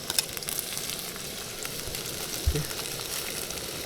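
Onions frying in oil in a pan while Maggi noodles are being made, a steady soft hiss of sizzling throughout with a brief stir or clink partway through, no talking.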